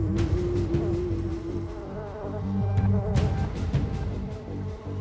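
Bees buzzing inside an infested house, a steady close drone with tonal harmonics that holds at an even level throughout, with no talk.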